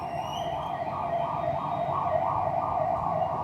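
A police ambulance siren passing outside cycles in a fast, regular rising-and-falling wail, strong and continuous through the whole moment, with no talk over it.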